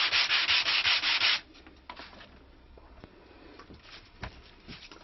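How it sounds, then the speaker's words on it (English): Rapid back-and-forth strokes of a hard sanding block on a wooden dulcimer fingerboard scrape loudly for about a second and a half, then give way to quiet rubbing and a few light knocks. "I've sanded this down now to a 320 grit, using these on a hard sanding block"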